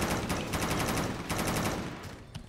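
Rapid automatic gunfire in the zombie shooter Left 4 Dead 2, played on a mod, bursts of loud sharp shots that rattle on almost continuously before thinning out near the end, with no talk over them.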